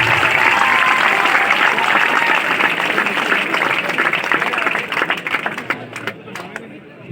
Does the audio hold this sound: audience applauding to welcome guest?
yes